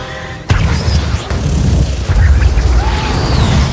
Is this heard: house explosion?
yes